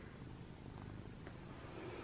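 A cat purrs steadily while being rubbed under the chin, a faint, low continuous rumble close by with no breaks and no talking.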